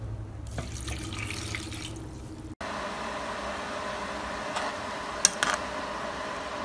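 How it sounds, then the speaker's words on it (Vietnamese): Cup of water going into a cooking pot holding cloves, an even splashing pour at moderate level after a cut, with a few faint clinks near the end and no talking. "Các bạn thêm 1 cốc nước."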